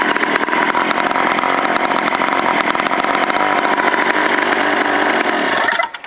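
A two-stroke motorized bicycle engine idles with no air filter fitted, a loud, close, buzzy rattling drone held steady for several seconds before sputtering out at the end.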